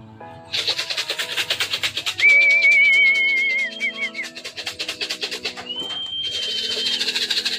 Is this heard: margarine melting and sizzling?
no